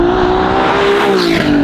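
A Ferrari 296 GTB fitted with a Novitec exhaust holds a loud, steady engine note close by, the tone sliding slightly as the revs shift, with no talk.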